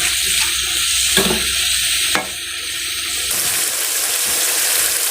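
Potato and eggplant sizzle and crackle steadily in a hot pan, with a couple of brief clanks as they are stirred.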